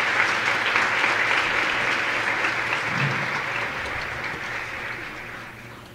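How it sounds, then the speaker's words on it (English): Steady audience applause at an education congress, a dense crowd clapping that fills the whole stretch and slowly tapers in loudness. "Please give him a big applause"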